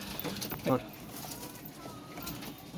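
Pigeons in a rooftop flying loft during rainy weather, a soft low coo rising briefly from a steady wash of rain noise, with faint background murmur.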